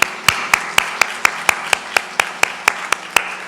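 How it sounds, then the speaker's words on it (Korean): A church congregation at a Sunday worship service claps in a steady, even rhythm, about four claps per second, loud and close. "하나님께 영광 박수 올려드리겠습니다."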